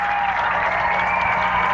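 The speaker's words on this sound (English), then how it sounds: "Crowd's getting pumped up." A basketball crowd at a McBain Ramblers game roars and applauds steadily, a dense, loud wash of cheering and clapping that fills the whole moment without pause.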